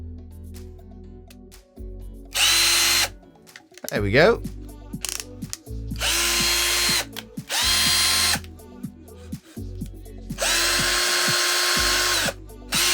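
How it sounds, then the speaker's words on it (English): A cheap cordless drill bought from TEMU runs in several loud whirring bursts of a few seconds each, with short gaps and clicks between them. Someone speaks briefly. "So hopefully the battery's charged."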